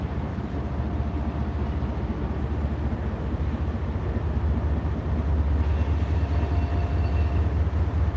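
A Norfolk Southern freight train led by the NS1070 Wabash heritage locomotive passes, producing a steady, loud, unbroken rumble of rolling wheels and engine noise that fills the whole stretch and swells slightly toward the end.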